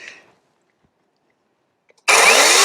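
A new chainsaw bursts into loud, close cutting after a short silence, a dense high-pitched roaring whine that holds steady, with a faint earlier noise and no talking.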